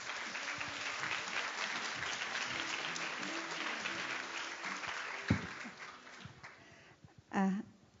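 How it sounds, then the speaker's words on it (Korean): A forum audience in Jeju applauds to welcome a keynote speaker, sustained clapping that thins out and fades, followed by a few scattered sounds and a brief voice at the end. "박수로 초대해 주십시오."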